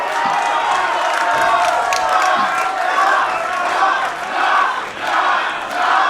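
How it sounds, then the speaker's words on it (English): A large crowd at a professional wrestling event cheers and roars continuously, swelling and dipping, with scattered shouts and whoops rising above the din. "the crowd was cheering for Mike Knox"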